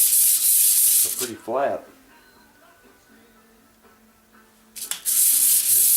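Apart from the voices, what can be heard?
sanding bronze thrust washer flat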